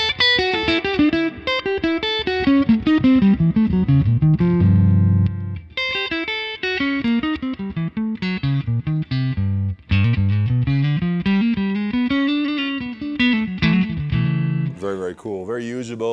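A James Tyler Japan Studio Elite HD electric guitar with its onboard preamp boost engaged plays a continuous, busy lead line with runs and bends, its tone thick and somewhat driven, going on without voices.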